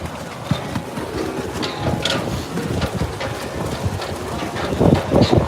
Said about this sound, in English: It's definitely very windy.